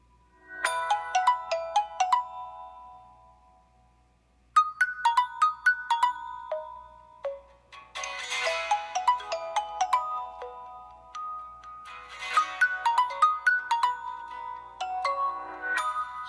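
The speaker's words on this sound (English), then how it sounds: "This is the Microsoft ringtone." The Microsoft ringtone plays on a Windows 10 Mobile phone, a bright melodic chime phrase repeated several times with short gaps, clean and close with no voices.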